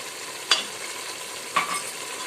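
Minced meat qeema frying in a pan with whisked yogurt being stirred in, a soft continuous sizzle broken by two distinct scraping strokes of a spoon.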